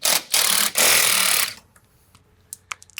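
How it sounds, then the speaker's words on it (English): Impact wrench fitted with a wobble socket hammers at a nut on a BMW rear subframe, giving two loud rattling bursts of about half a second and one second, then it falls silent apart from a few faint clicks. "Take my impact with the wobble socket, see if I can hit that nut."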